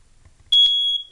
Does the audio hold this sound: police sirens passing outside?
no